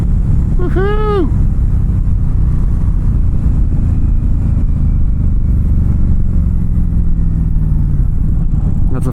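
An Indian Scout Bobber Sixty ABS motorcycle pulls hard on a ride with a loud, steady low engine rumble and heavy wind buffeting throughout, while a rider lets out a brief whooping shout early on.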